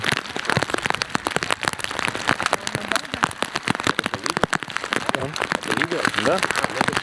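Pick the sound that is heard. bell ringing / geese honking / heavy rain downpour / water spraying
heavy rain downpour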